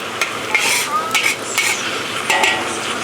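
Roughly chopped garlic sizzles in a hot wok with a steady frying hiss, while a utensil stirs and scrapes against the metal in several clinking strokes.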